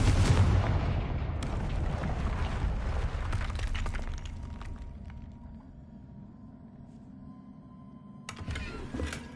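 A Confringo blasting spell detonates amid troll-wrecked debris in a Harry Potter video game, a loud booming explosion that rolls off into a fading rumble, followed by a fainter second burst near the end.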